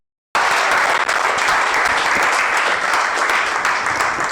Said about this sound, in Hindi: बजा दीजिए इसके लिए ताली।